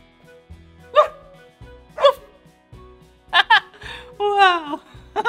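People imitate a dog barking in a playful kids' setting, calling out several separate woof-like barks at a steady pace, then a longer whining yelp, with speech and laughter around them.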